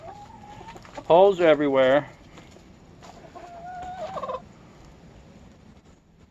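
Chickens in a muddy backyard coop let out one loud, wavering squawking burst, followed later by softer clucks as a person talks nearby.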